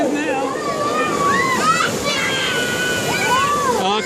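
Water sloshes and splashes steadily onto a raft on the Kali River Rapids ride at Disney's Animal Kingdom, a loud, continuous rush with riders' voices and shouts over it.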